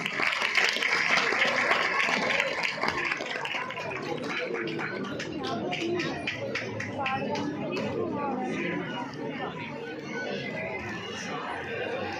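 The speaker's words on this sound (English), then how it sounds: "Applause for the team." Audience applause at a school annual day as the athletes' team comes up on stage, a steady wash of clapping mixed with crowd chatter and children's voices that continues throughout.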